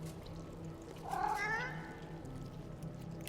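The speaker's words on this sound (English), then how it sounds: "Fane, do you want to talk to that cat?" A single short cat meow rises and bends in pitch near the middle of a Divinity Original Sin 2 scene, heard over a low ambient game soundtrack.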